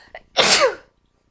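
A single sharp human sneeze with a brief intake just before it, close and loud, then silence.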